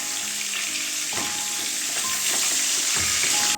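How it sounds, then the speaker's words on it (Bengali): Fish heads fry in hot oil in a pan, giving a steady, close sizzling crackle that runs unbroken with a few soft stirring clunks and no voices. "মাছের মাথা ভাজা হয়ে গেছে, যেগুলো হয়ে গেছে সেগুলো আমি একটা একটা করে তুলে নিচ্ছি।"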